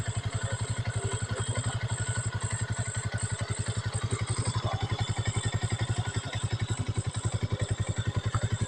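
Motorcycle ridden along a road in Tabogon, Philippines, its engine thumping in a fast, even pulse, loud and close throughout with a rattly edge over the low beat.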